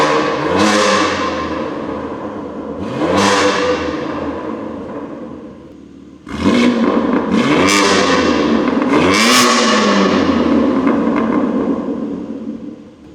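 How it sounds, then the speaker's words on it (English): BMW M4 engine revved repeatedly while parked, several sharp rises in pitch that fall back between blips, loud and close with crackling exhaust and no talking. "now the check engine light is off, so we can actually rev this thing and have it make the noises that it should"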